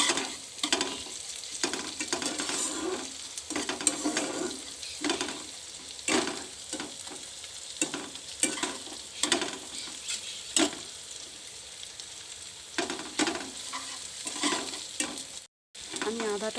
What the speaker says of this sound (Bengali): আদাটা দিয়ে আবার একটু ভালো করে নাড়তে হবে